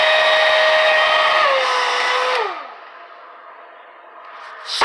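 An old hair dryer roars loudly and close on its hot, high setting, then winds down with a falling whine as it is switched off, leaving near silence and a closing click.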